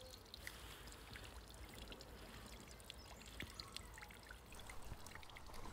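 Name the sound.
water trickling in a small garden fountain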